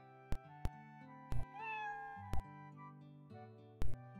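A cat meows in a game scene with music, a single clear rising meow rising in the middle of the stretch, with sharp percussive hits before and after it and no talk.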